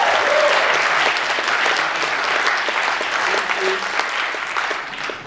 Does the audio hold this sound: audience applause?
yes